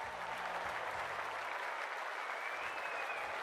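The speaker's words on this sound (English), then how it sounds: "The crowd already making plenty of noise as the captains come together in the middle." A large stadium crowd cheers and applauds before an AFLW finals match, a dense, steady roar filling the space without letup and with no clear speech above it.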